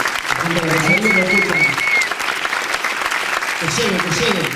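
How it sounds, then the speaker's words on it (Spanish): Audience applause at a live stage presentation, a steady wash of clapping that stays loud throughout, with a voice speaking over it from start to finish. "Un aplauso grande para gente de Rosario."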